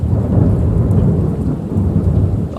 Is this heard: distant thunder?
yes